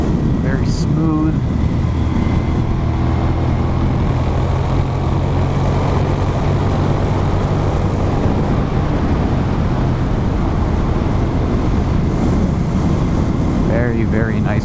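Riding a 1999 Suzuki SV650 motorcycle produces a constant, loud roar of wind buffeting the microphone, with a low engine drone running beneath it the whole way through.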